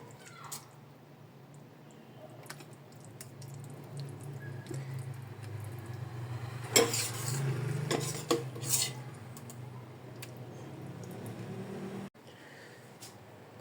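Eggplant sautéing in a pan until its water cooks off, a quiet low sizzle running underneath with intermittent utensil scrapes and clinks against the pan, a brief louder stirring flurry in the middle.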